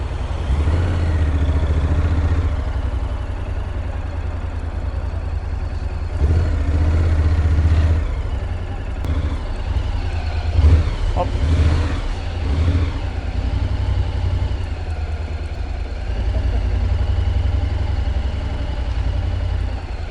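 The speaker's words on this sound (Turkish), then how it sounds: "Yeni motosikletimizle tanıştınız." A new motorcycle engine runs steadily throughout its first ride, a constant low hum with mild swells that sound like gentle revving, loud and close, with no voices.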